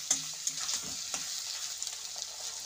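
Tomato paste and quartered tomato pieces land in a pan of frying cauliflower stems and potatoes, giving a close, steady sizzle broken by a few sharp stirring clicks, with no voices.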